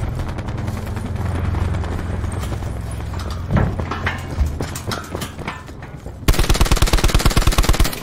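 Rapid bursts of Apex Legends gunfire on Xbox One S, with scattered single shots giving way to a loud, steady automatic volley at the end.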